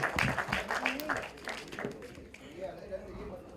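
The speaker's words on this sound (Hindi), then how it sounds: "एक बार तारा के लिए जोरदार ताली होनी चाहिए प्लीज" A burst of audience clapping for Tara's birthday at a film trailer launch event, heard mostly in the first second and a half while an announcer talks over it on a PA.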